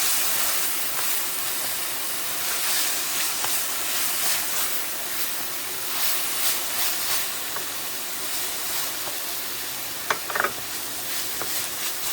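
Minced ginger and garlic sizzling in a hot pan while making Thai red curry with shrimp: a steady, bright hiss with light crackles, holding evenly throughout, plus a couple of brief utensil knocks near the end.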